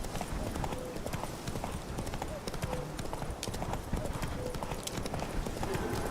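In the Witcher 3 video game, the horse Roach gallops with rapid, steady clip-clopping hooves, close and continuous, as someone talks over the hoofbeats throughout.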